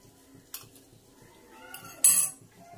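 A fork pricks dough for a mini Mughlai paratha, giving a few light, separate taps and clicks with one sharper clink near the end, close and fairly quiet.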